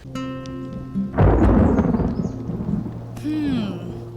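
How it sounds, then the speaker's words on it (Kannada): A sharp thunderclap breaks out as rain begins, rolling into a loud, rumbling crash that slowly fades, with a soft patter of rain beneath it. "ಮಳೆ ಶುರುವಾಯಿತು"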